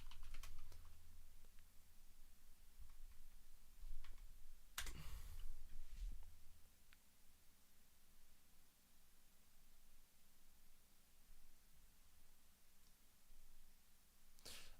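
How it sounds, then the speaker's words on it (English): Typing on a computer keyboard: faint, scattered key clicks at low level, with a brief louder burst of handling noise partway through. "the last thing we'll just do here is just type in Liam Tufts"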